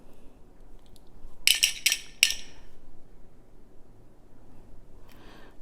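Small blue glass crystal rondelle beads clink together as they are handled, producing a brief cluster of bright, close ticks followed by a few faint rattles against a quiet room background.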